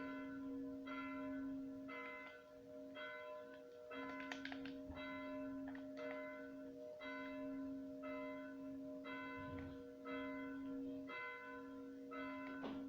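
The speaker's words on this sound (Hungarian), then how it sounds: "közben harangoznak" A church bell tolls steadily in Minecraft, about one strike per second over a sustained ringing tone, moderately distant and alone with no voices.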